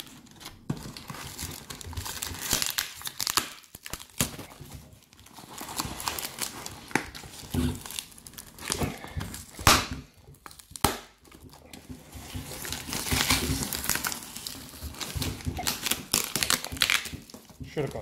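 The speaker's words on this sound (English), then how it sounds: "it's given me a bit of a challenge to get into this box" Cardboard box for a retro games package torn and crumpled open by hand during an unboxing, with bursts of ripping, crinkling and scraping coming and going close to the microphone, and a person talking at times.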